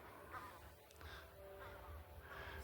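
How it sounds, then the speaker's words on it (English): Crow cawing outdoors, a few harsh calls rising over a constant low rumble of background noise, at moderate distance. "Yeah, there's a crow that was squawking."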